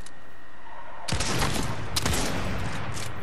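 A sudden burst of rapid Fortnite gunfire breaks out of a quiet background, loud and close, then keeps rattling with a second sharp spike midway.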